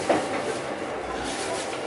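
A Joban Line Special Rapid Service train runs through the Tokyo area, heard from on board as a steady loud rumble and hiss with faint wheel clatter, a voice briefly over it.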